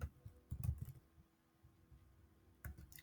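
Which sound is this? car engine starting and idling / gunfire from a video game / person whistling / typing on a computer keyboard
typing on a computer keyboard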